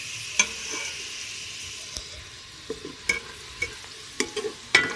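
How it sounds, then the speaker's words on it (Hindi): Onions fry in hot oil for a desi lobia (black-eyed pea) dish, a steady close sizzle broken by several sharp scraping clicks of a spoon stirring the pan, with no voices. "अभी ये प्याज हो रहा है ब्राउन, थोड़ा सा और ब्राउन करेंगे इसको"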